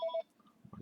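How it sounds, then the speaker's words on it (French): A telephone sounds briefly with two short electronic tone pulses, faint and near, followed by a low murmur. "Là, vous entendez le téléphone."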